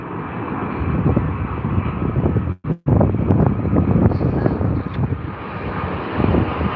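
A Singapore Airlines Boeing 777 in Star Alliance livery lands at Heathrow, its loud, steady jet roar filling the scene with wind buffeting the microphone and a brief dropout partway through.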